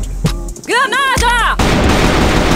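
A grenade in a Free Fire-style shooter video game goes off in a loud, broad roar of blast noise that fills the last second, right after a voice shouts.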